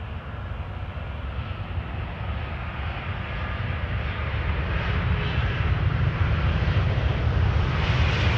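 A long-haul airliner arriving from San Francisco at Amsterdam Schiphol Airport near the 18R Polderbaan runway, its broad engine roar steady and gradually swelling louder over several seconds, with no talk.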